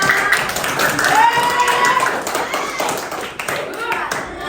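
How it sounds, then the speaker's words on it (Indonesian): Scattered classroom clapping during a bingo-style learning game, moderate and close, with voices talking over it throughout. "Kasih tepuk tangan juga dong."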